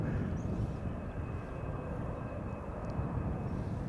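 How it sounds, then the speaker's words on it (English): A KLM Boeing 737 airliner arriving at Schiphol from Brussels produces a steady, broad engine roar that holds at an even, moderate level throughout. "KLM 737 going to the center runway, arriving from Brussels, flight 1724."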